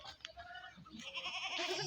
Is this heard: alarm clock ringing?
no